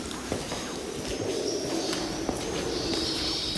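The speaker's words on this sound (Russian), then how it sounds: "Птицы как разбушевались." Birds call and coo inside an abandoned church, over a steady reverberant background hiss with occasional faint knocks and footsteps.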